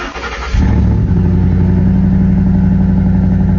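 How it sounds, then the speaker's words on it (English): A car engine with a loud aftermarket exhaust fires up and revs, settling into a deep, rumbling idle close by. "my son got to hear my new exhaust for the first time"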